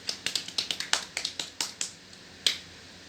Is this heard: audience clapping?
yes